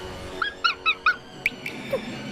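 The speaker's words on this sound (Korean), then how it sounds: "조이는 마치 세리나를 재촉하듯 거듭짖었다" A dog barks repeatedly in short yelping bursts, about seven quick, high-pitched barks in an uneven run over a steady background hum, fairly close.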